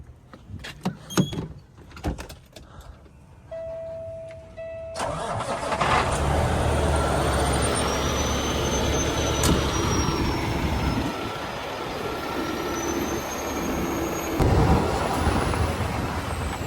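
A 50 ton wrecker truck with a leak has its engine started: a few clicks and clunks, then cranking that catches into a loud, steady diesel idle rumbling close by.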